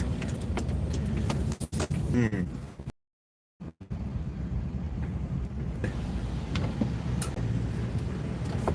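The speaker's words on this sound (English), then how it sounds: "Oh, we got the Loomis truck." A Loomis armored truck passes on a road in Keene, New Hampshire, a steady close roar of tires and engine that continues after a brief dropout, with wind buffeting the microphone.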